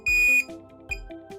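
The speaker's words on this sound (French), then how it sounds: "J'attends le troisième bip qui signifie que la calibration est terminée avant de l'utiliser." A Minelab Pro-Find pinpointer metal detector gives short electronic calibration beeps: a longer tone first, then a few brief clipped bleeps in quick succession, close and clear with no talking.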